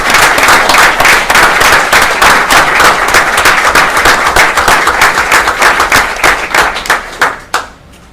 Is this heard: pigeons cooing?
no